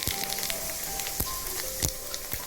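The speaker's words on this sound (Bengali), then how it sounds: "সেই তেলে আমি এই জিরেটা দিয়ে দিলাম" Cumin seeds crackle in hot oil left over from frying pabda fish, a steady fizzing sizzle broken by a few sharp pops, close and fairly quiet with no talking.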